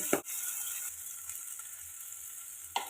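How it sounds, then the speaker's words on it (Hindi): Chopped tomatoes and spices such as roasted cumin powder go into a hot frying pan for a Navratri fast meal, giving a steady close sizzle with a couple of sharp clinks, no voices. "तो इसमें हम कटे हुए टमाटर डाल दे रहे हैं, कुछ मसाले डाल दे रहे हैं जैसे कि भुना जीरे का पाउडर"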